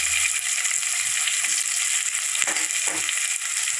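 Onions sizzling in a pan with green chillies and curry leaves for jeera rice, a steady close frying hiss with a couple of brief stirring scrapes.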